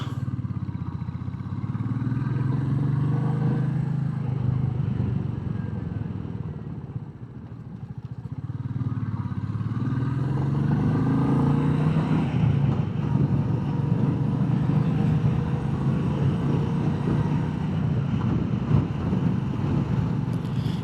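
Royal Enfield Meteor 350 motorcycle engine chugging steadily at close range while riding, a low, continuous thumping drone with a brief dip partway through, then rising again.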